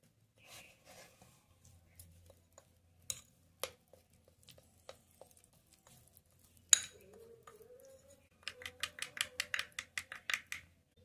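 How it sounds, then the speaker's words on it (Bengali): Flour and white oil are stirred together in a bowl with a spoon, giving quiet scattered scrapes and light clinks, then a quick run of rhythmic taps near the end. "এবার এটাকে ভালো করে মিশিয়ে নেব"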